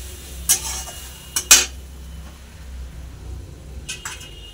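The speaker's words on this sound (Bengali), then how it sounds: "খালি মশলাটা একটু নেড়ে নিলাম" A spoon stirs masala spice paste loosened with a little water in a pan, making a few brief scrapes and clinks against the metal over a quiet low hum.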